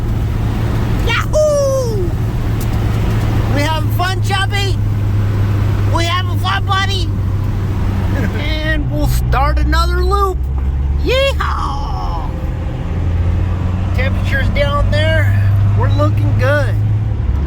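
A first-generation Toyota pickup rolls downhill with its engine droning steadily and loudly throughout, while someone talks over the constant motor noise.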